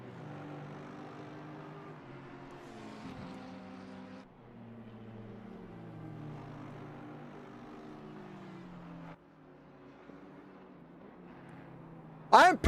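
Race car engines in the racing game Assetto Corsa Competizione at Brands Hatch, a steady droning engine tone with shifting pitch under a quiet voice, ending in a short sharp burst.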